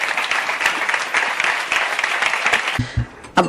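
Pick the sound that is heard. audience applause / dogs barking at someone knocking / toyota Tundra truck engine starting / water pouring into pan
audience applause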